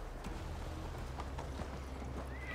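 A horse trots in Assassin's Creed Valhalla, steady clip-clop hoofbeats sounding close under a low game ambience, with a brief whinny-like tone near the end.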